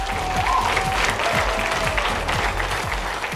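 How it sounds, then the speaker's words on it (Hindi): Audience applause at a sports ministry felicitation ceremony for Tokyo Olympics medal winners, dense steady clapping from a crowd, loud and close, continuing without a break. "इसके लिए सभी लिए ताली बनती है यार"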